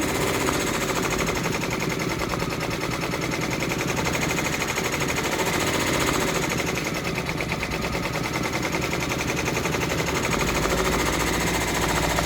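A Brother embroidery machine stitches a freestanding gingerbread village bridge with a loud, continuous rapid needle chatter that stays steady and close throughout, with no talk.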